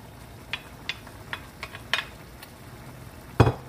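Chop suey in a pan thickened with slurry is stirred: a spoon scrapes and clinks against the pan several times, ending in a louder clatter, with soft sizzling close by and no talking.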